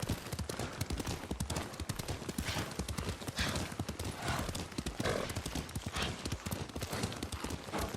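Steady clip-clop of horse hooves at a brisk riding pace in the video game Ghost of Tsushima, close and loud, with an occasional horse whinny and faint background voices.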